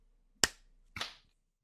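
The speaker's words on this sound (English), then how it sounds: "do you want to just do 3, 2, 1, clap?" Two sharp hand claps ring out close by in a quiet room, about half a second apart, the second a little softer and more smeared than the first.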